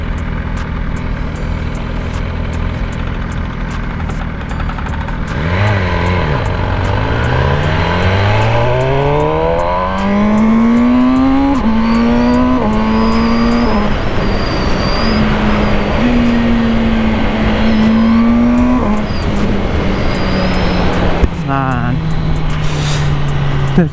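A 2020 MV Agusta Brutale 1000RR on the move revs up through its gears with a loud, close engine roar, its pitch climbing and dropping between quick-shifter changes and then holding a steady cruise.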